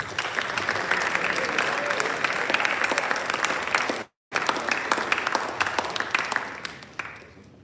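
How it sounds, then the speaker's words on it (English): Audience applause at a high school senior awards ceremony, a dense, sustained crowd clapping that briefly cuts out midway and then resumes before thinning toward the end. "how about a round of applause for our second group up here?"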